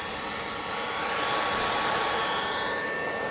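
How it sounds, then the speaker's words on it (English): Steady, broadband whooshing hum of a computer power-supply fan on an Antminer crypto-mining rig, constant and fairly close, with a faint high whine running through it. "this is the sound you're hearing is coming from the PSU."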